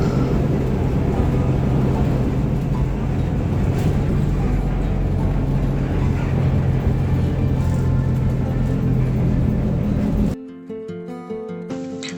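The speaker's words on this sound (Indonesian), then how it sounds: "lalu lintas makin padat." Dense city road traffic heard from inside a public bus on the 6T route through Pasar Minggu, Pejaten and Kemang: a steady low engine and road rumble with constant vehicle noise, cutting abruptly to a quieter interior near the end.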